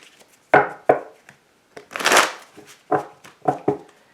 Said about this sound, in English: let's go ahead and shuffle the deck